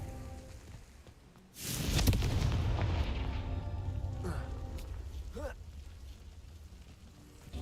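A Confringo explosion spell goes off in Hogwarts Legacy with a sudden loud boom, followed by a long rumbling blast that slowly fades over several seconds.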